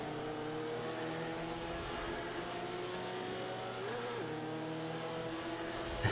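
A race car in Forza 5 holds a steady high engine drone as it keeps accelerating on the final lap, one clear revving tone with a brief pitch wobble partway, at moderate level with no talking.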